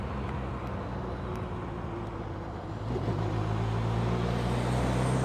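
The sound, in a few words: 2007 Campagna T-Rex trike, Kawasaki 1350cc engine, riding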